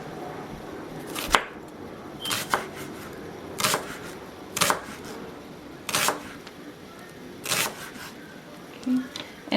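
Knife slicing an onion into strips on a cutting board, giving sharp, evenly spaced chopping clicks about once a second, close and distinct against a quiet kitchen background.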